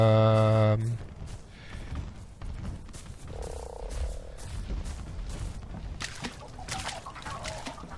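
Frog croaks in the video game Ark Survival Evolved, a loud burst at first followed by repeated croaking and creature calls under game sounds and people talking.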